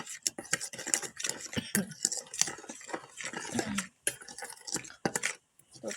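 Spicy noodle seasoning stirred with soy sauce in a bowl, a spoon clinking and scraping against the sides in quick repeated strokes, close up, while a person talks throughout.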